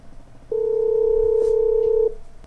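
A single steady telephone tone from a Xiaomi Xiao Ai touchscreen smart speaker placing a call sounds for about a second and a half, loud and clear, after a brief quiet start.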